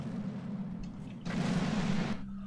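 A video game explosion erupts as a loud, roaring burst of noise lasting under a second over a low, steady game hum, then cuts off abruptly.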